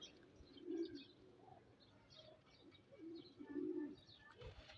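Teddy pigeons coo softly in low, throaty bursts, a few calls spaced apart against quiet background rustle, with faint chirps.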